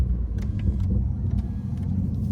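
Honda Accord V6 on a rainy day, heard from inside as a steady low engine and road rumble with faint higher hiss throughout, no voices.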